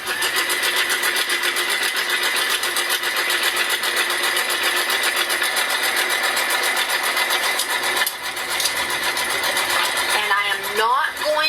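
A sewing machine runs a long basting stitch through quilt fabric and batting, a fast continuous mechanical whir sustained throughout, close and loud, with a brief pause near the end and a voice talking over it.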